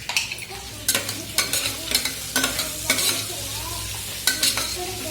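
Tomato cooking in a pan for dal khichdi, stirred with a spoon that gives a run of sharp scraping clicks over a low, steady sizzle.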